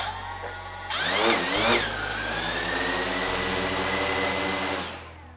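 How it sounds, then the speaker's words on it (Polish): A DJI Phantom 4 drone's motors start up abruptly, with a brief rising whine, then hold a steady hum at constant idle pitch before fading out near the end. "Przez chwilę silniki pracowały na biegu jałowym."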